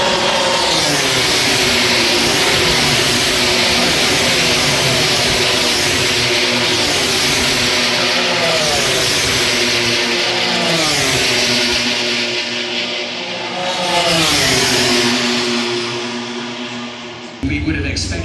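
MotoGP racing motorcycles at the Qatar Grand Prix screaming past in a pack, high engine whines rising and falling with gear changes as they approach and pass, with a commentator talking over them.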